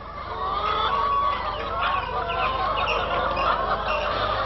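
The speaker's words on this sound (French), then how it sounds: "je produis des animaux de basse-cour, c'est-à-dire poules pondeuses" Egg-laying hens and broiler chickens cluck steadily in a farmyard, with overlapping busy calls that stay fairly close and continuous throughout.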